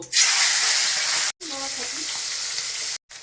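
Fish heads fry in hot oil in a wok with a loud, continuous, crackling sizzle. It cuts out briefly twice, and a faint voice is heard for a moment in the middle.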